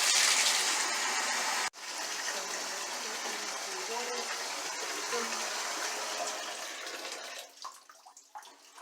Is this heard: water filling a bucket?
yes